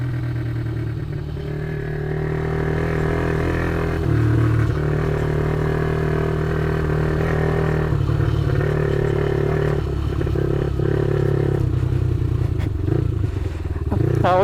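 A Geon Scrambler 300 motorcycle rides a bumpy dirt road, its engine droning loudly and steadily close by with rattling clatter over the bumps, a rider's voice over it.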